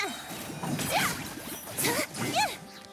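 A big hammer smash attack in Genshin Impact lands as several loud whooshing crashes and impacts, with a few swishing effects spread across roughly three seconds.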